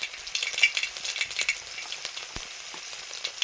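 Panch phoron spices sizzling in hot oil for a fish jhal chorchori, a close, continuous crackle and hiss with sharp pops scattered throughout and no talking.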